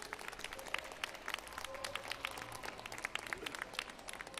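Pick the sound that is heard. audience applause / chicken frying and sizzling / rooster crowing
audience applause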